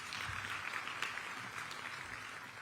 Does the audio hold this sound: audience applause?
yes